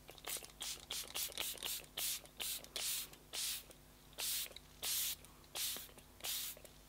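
Repeated short bursts of setting spray hissing from a pump bottle, a quick series of close, crisp sprays with brief pauses between them.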